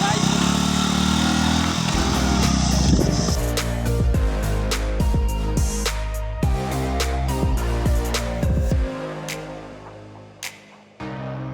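A motorcycle engine runs loud and close during a riding and braking test, its pitch rising and dropping in a series of revs before it cuts out near the end, with a person talking over it.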